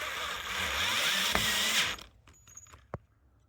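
Power drill bores into the body of a 2026 Can-Am Defender to mount an antenna, a loud whining grind for two seconds that stops abruptly, followed by a few scattered clicks and taps.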